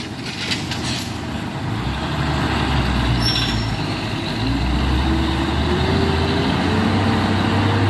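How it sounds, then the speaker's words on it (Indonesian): A loaded single-axle truck labors up a steep hill road in Indonesia, its diesel engine growling in a steady, rising drone with a faint whine, loud and continuous with no voices. "di sini kita melihat satu unit truk bermuatan akan menanjak, yaitu truk engkel"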